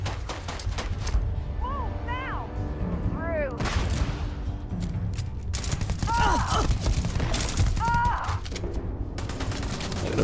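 Bursts of gunfire in the space RPG Starfield, sharp shots scattered through the stretch amid game effects and grunts, with a voice talking at points.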